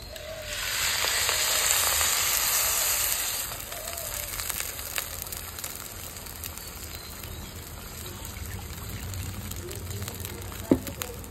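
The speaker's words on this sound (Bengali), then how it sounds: "এবার জল দিয়ে দিচ্ছি।" Water poured into a pan of frying red lentils and onions for masoor dal chorchori sets off a loud, close sizzling burst. It then settles into a softer, steady frying hiss with a sharp clink near the end.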